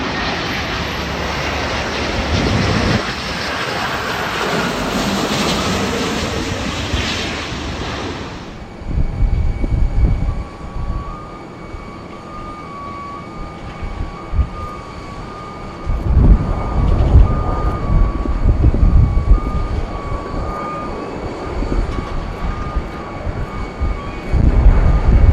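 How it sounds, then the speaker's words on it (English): A Virgin Atlantic Airbus A350 from Orlando arrives at Heathrow, a loud jet roar that cuts off abruptly, followed by lower rumbling engine noise and a faint whine. "Virgin's A350 coming in from Orlando."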